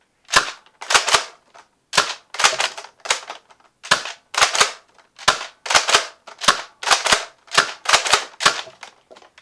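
Buzz Bee Walking Dead M16 foam dart blaster firing rapidly, a close, loud series of sharp snapping shots in quick uneven pairs and runs with brief gaps between them.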